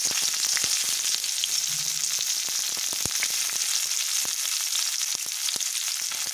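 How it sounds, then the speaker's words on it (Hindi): Chopped onion sizzles steadily in hot oil in a home kitchen pan while cooking methi matar malai, a dense continuous crackle with scattered sharper pops, fairly loud and with no talking. "तो यहाँ पे हमारा तेल अच्छे से गर्म हो चुका है उसमें हम डाल देंगे प्याज"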